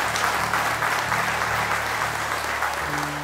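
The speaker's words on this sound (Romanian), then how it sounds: "Haideți să-i aplaudăm!" A church congregation applauding during a baptism service in London, dense continuous clapping from many people filling the room, loud and even throughout with no speech over it.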